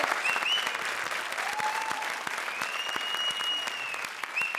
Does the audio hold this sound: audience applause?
yes